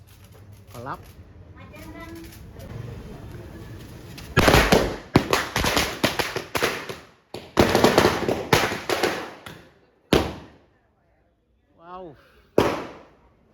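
Firecrackers burst loudly and close in rapid crackling clusters with short gaps, following a quieter stretch with faint chirps and a brief voice.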